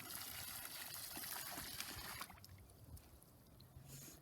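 Pond water pours back into an outdoor pond after a second-grade pond study, a faint trickling and splashing that is busier at first and then thins to a quieter dribble.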